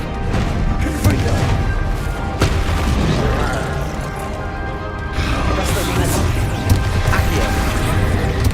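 Confringo fire blast spell explosions in Hogwarts Legacy: heavy booming crashes and sharp impacts layered over continuous battle noise, loud and close, with a character shouting spell names amid the combat.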